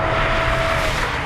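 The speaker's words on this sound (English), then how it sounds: "This engine is everything that's right with a BMW inline 6. It sounds fantastic." BMW E46 M3 inline six engine revving, a smooth sustained tone inside the car, steady and fairly loud with a faint rising whine, no talk.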